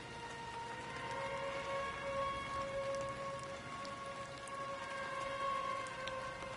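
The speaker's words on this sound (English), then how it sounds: "As I hear it raining outside." Rain falls steadily outside in the video game Death Stranding 2, a soft, constant hiss heard at low volume, with faint tonal music or ambience sitting underneath.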